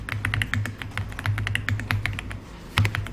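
Quick bursts of computer keyboard typing, close and crisp, with short pauses between runs of keystrokes and a final cluster of taps at the end; no talking.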